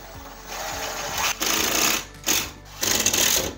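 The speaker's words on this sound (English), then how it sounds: "So I'm just gonna hold this piece up while Emilio screws it in." A drill-driver runs screws into drywall in short bursts, about three close, loud whirring pulses separated by brief pauses.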